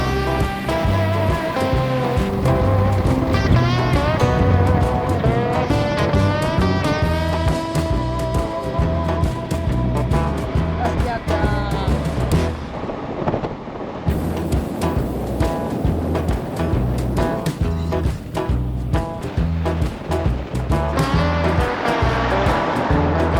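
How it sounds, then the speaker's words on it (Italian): Big Atlantic waves break on the beach at Nazaré, a loud, continuous rushing surf with heavy low rumble that stays steady throughout, with no voices. "Ecco l'oceano ragazzi, guardate che spiaggia abbiamo trovato."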